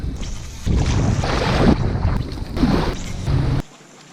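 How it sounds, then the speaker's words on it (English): Strong wind rips across a lake during a fishing trip, roaring in loud gusts against the microphone with water slapping beneath, then dropping away suddenly at the end. "The wind was just ripping."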